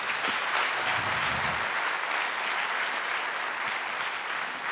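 An audience at the Institut Français in Brazzaville applauds a Kimbanguiste music group, a steady dense wash of clapping filling the whole stretch at moderate volume with no voices over it.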